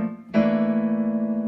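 After a brief quiet moment, a single piano chord is struck and rings out clearly, its sustained tones slowly decaying while held.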